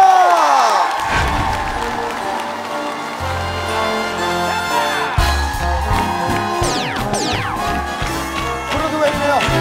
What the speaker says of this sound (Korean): 큰 박수로 해주시기 바랍니다.